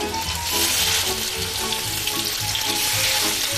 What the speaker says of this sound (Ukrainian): То будемо на олії смажити, так?